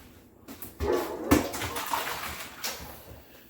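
Running water splashing while homemade butter is rinsed, uneven gushes and splatters rising and falling over a few seconds.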